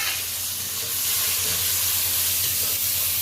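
Onion, tomato and green chilli hit hot oil tempered with black cumin, giving a steady, fairly loud hiss and sizzle that carries on without a break and with no voices over it.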